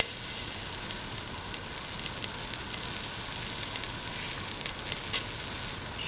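Ginger sizzles and fries in a hot pan with a steady, bright hiss that stays even throughout, fairly close and alone.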